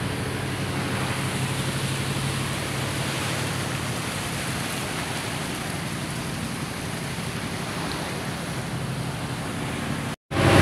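Steady, loud sea surf rolls continuously as a broad wash of noise along a beach, with no clear breaks or voices, cutting out briefly right at the end.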